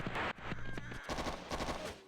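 Rapid automatic gunfire rattles in the video game Operation Flashpoint, loud dense bursts of shots with echoing reports filling the whole moment.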